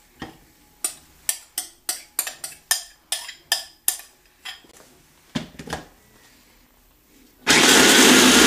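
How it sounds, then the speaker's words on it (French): A blender chops eggs with ham in short repeated bursts, about a dozen quick pulses each rising then cutting off, then runs continuously and loudly at the end, close up with no talking. "Maintenant, on a mixé les œufs avec le jambon"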